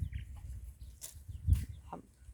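Chickens and chicks wandering around a yard, with a few soft clucks and short calls amid low rustling and background noise, faint and intermittent.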